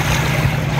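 A boat motors steadily up a channel on open water near Double Island Point, Queensland, its low continuous engine drone close and loud, with water wash and wind noise over the top.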